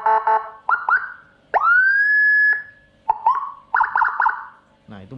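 A Whelen HF 60-watt siren module fitted to a motorbike, run in full mode, gives loud close bursts of quick yelps and one long rising wail that holds steady before cutting off, with short gaps between bursts.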